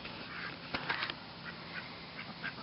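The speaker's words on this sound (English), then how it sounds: "The drake is a blue Swiss, and Mom is actually an Indian runner duck." A blue Swiss drake and an Indian runner duck on a homestead give several soft, scattered quacks, one louder burst near the start followed by fainter calls over a quiet background.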